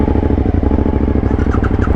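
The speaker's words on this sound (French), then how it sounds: "Ah déjà j'entends le petit pot derrière qui fait plaisir" Suzuki V-Strom motorcycle with an aftermarket exhaust, engine running steadily and close by with a throbbing, rumbling note and slight clatter, constant and loud with no talk.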